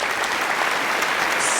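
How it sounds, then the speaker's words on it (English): An audience claps densely and steadily after an Arangetram classical dance performance, a brief burst of applause that fills the hall. "In giving Rhea another big round of applause."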